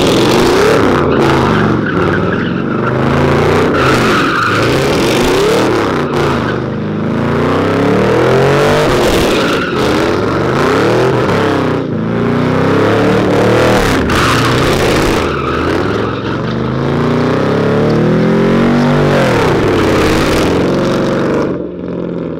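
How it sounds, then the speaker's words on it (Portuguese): A Chevrolet Camaro spins donuts, its engine revving hard and rising and falling in pitch while tires squeal continuously. Loud and close, with no talking. "O Léo domina, mano, no zerinho com o Camaro"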